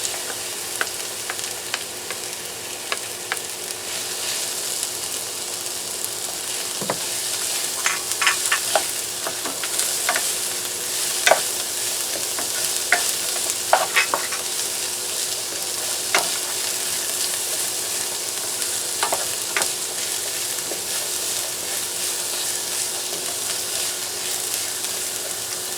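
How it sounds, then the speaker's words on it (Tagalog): Onions fry in a pan for beef caldereta, a steady sizzle beneath repeated scraping stirs and light utensil taps that come in irregular bursts over a long stretch, close by and without talk. "lalagay na natin ang ating sibuyas"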